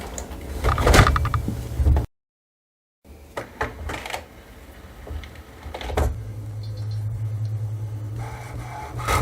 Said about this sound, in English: You may close the ink access door.